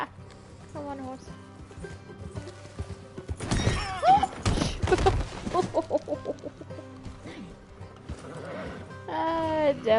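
Horse in the Red Dead Redemption II video game, whinnying and snorting with hoof thuds, loud in the middle and again at the end over a low game backdrop, with a voice briefly speaking.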